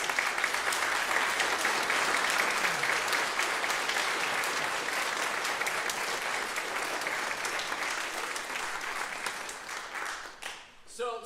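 An orchestra concert audience applauds steadily for student string players, a dense, even patter of many hands that fades toward the end, with voices near the close.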